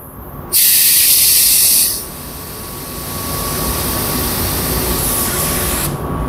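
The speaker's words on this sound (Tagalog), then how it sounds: "Iti-test natin dito yung pan ko. Yung spray gun ko." A paint spray gun hisses in a loud close burst lasting over a second, then settles into a long steadier spray while coating a Toyota Tacoma truck bed, with a constant hum beneath.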